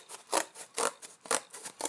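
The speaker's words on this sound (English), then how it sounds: "Next, you are going to cut it out. Just cut along the lines." Scissors cutting through cardboard for a cat mask, four crisp snipping strokes in a steady rhythm, close and fairly quiet with no talking.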